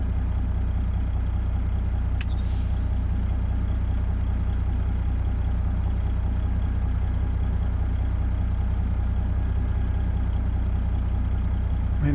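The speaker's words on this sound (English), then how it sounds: "So let's try the engine fan." A Caterpillar 3406B truck engine with its engine fan running in American Truck Simulator produces a steady, loud, low droning hum with a brief hiss near the start, constant and without any talking.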